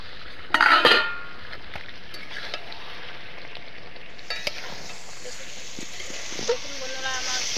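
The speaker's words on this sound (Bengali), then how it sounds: "আলুটা দিয়ে কষবো।" Potatoes stirred and frying in a pan of chicken curry, a steady sizzle with scraping spoon strokes near the start and scattered clinks, continuing quietly throughout.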